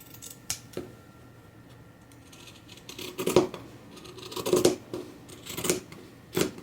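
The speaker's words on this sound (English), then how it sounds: "these scissors are able to cut through all of these layers" Sharp scissor snips cutting through several stacked fabric layers while sewing homemade zero-waste bowl covers, a few crisp cuts close by, spaced irregularly and growing louder toward the end.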